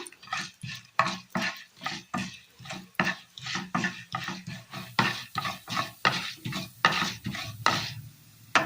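Urad dal frying in coconut oil for a Kerala curry while a spoon scrapes and stirs the pan in quick, regular strokes, close and fairly quiet, with a soft sizzle underneath.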